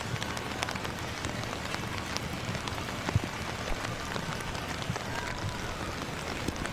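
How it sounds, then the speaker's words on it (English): Heavy rain patters steadily and densely on surfaces throughout an outdoor cross country race, a constant loud wash of drops with faint background noise and no clear talk. "You can hear the rain. It is really horrendous out there."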